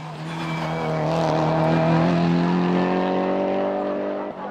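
A Peugeot 308 Cup race car climbs a hill-climb course, its engine holding a loud, steady high-revving drone as it passes, swelling slightly and then cutting off abruptly near the end.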